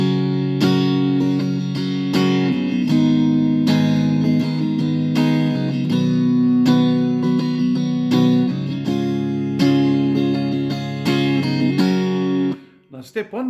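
An acoustic guitar strums full, bassy chords from a song, playing steadily and loudly for about twelve seconds before the strings are damped.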